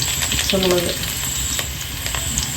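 Garlic and ginger sizzle steadily while frying in a pan, a dense hiss running through the whole stretch with a brief voice-like tone partway through.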